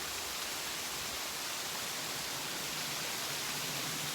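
A small waterfall on a creek in the Catskills, New York, gives a steady, dense rushing hiss that fills the whole stretch without a break. No voices are heard over it.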